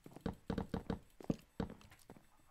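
Hooves of a horse clop on the ground in the Minecraft video game, a run of soft uneven taps and clicks close by, with no voices.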